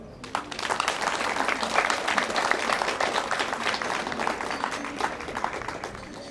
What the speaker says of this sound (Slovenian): predlagam, da še enkrat pozdravim z enim gromkim aplavzom